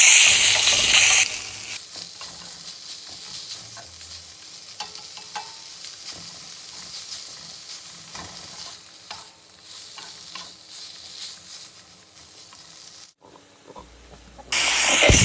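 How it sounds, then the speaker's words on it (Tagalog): Meat sautéing in a pan until browned, with a steady close sizzle and frequent scraping stirs, louder hissing bursts at the start and end. "So, gisahin lang natin ng konti hanggang ito ay mag-brown na."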